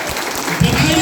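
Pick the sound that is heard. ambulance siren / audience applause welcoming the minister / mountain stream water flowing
audience applause welcoming the minister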